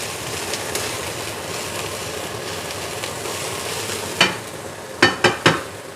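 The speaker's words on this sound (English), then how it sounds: "we just want to get a little bit of a char and caramelization on them" Onions char and sizzle in a hot skillet for Mongolian beef, a steady close hiss broken by several sharp scraping knocks of stirring near the end, with no speech.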